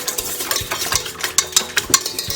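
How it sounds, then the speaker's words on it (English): Sugar and eggs for a cake batter are stirred together in a bowl, making a run of quick, sharp clinks and wet scraping strokes in an uneven rhythm, close and fairly loud with no talk. "Give it a nice little mix."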